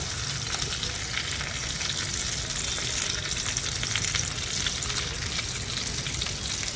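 Green chillies stuffed with chicken keema fry in a pan, giving a steady, close, dense sizzle that continues without break and with no talking.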